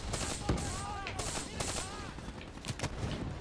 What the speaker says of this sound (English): Oh, hello, I'm getting shot.